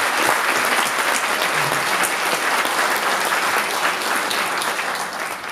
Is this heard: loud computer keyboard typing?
no